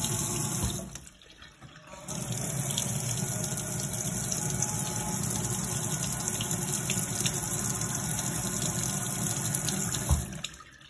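Running water rinses chrome trim during detailing, a steady close hiss of flowing water that briefly drops out and then resumes, with no voices.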